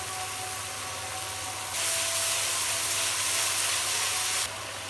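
Spice paste of turmeric, chili powder and salt frying in a pan, a steady close sizzle and hiss that swells louder midway and then drops back.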